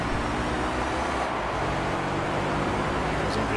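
Wagon car engine in Gran Turismo 3, a steady, dense roar with road noise that holds at an even, loud level throughout without clear gear changes.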